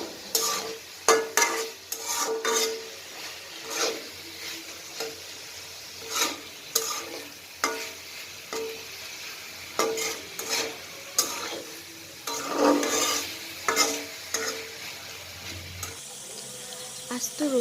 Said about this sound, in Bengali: আমি ক্রমাগত নেড়ে চেড়ে এগুলো এখনও ভেজে যাচ্ছি